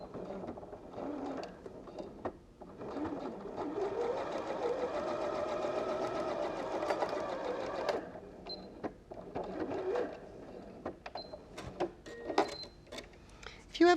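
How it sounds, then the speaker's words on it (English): A sewing machine stitches a Christmas star quilt block, a steady close mechanical whir running for several seconds, then stopping as handling noises follow. "If you ever watch me sewing and you wonder why I'm so cack-handed on a machine"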